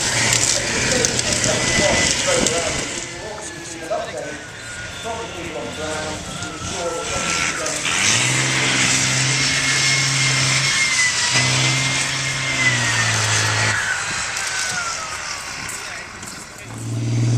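A Jackal armoured vehicle drives on patrol at the 2013 Tank Fest in Bovington, Dorset, its engine rumbling loudly and revving up mid-way through. A commentator speaks over the public address throughout.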